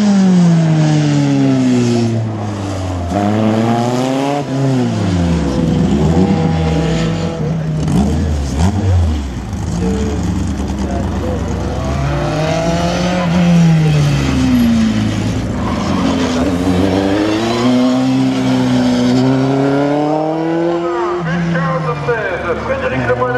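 A race car driving a slalom course at the Neufbourg slalom, its engine revving up and down in repeated rising and falling sweeps as it accelerates and brakes between gates, loud and sustained, with an announcer's voice faintly underneath.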